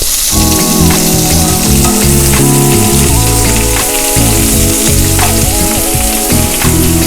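Shrimp sizzling loudly and steadily in a pan while being cooked for Alfredo pasta, a dense close crackle of hot oil with occasional soft clinks and shifts as the pieces are turned.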